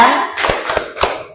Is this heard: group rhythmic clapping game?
yes